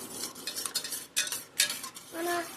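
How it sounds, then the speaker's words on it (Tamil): A spoon stirs a chili-powder egg mixture for bread egg toast in a bowl, giving quick scraping, clinking strokes in a steady rhythm, close and fairly quiet, with no talk. "இப்போ கொஞ்சம் கலக்கிடலாம்."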